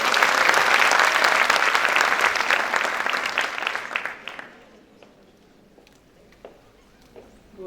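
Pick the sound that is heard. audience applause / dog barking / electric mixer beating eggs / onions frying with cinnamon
audience applause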